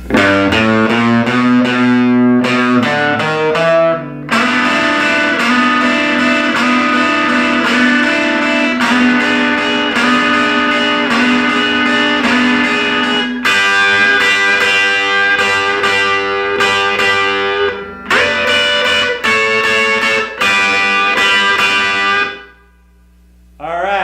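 A distorted electric guitar plays a riff, with sustained chords and quick single-note runs, loud and continuous, with a short gap near the end.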